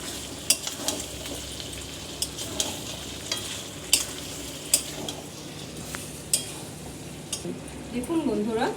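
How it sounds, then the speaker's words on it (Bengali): Mutton kosha with half a spoon of garam masala sizzles in a pan while a spoon stirs it, with soft frying hiss and occasional sharp metallic scrapes and clinks against the pan. "দিয়ে এবার আর খানিকটা নেড়ে নেব"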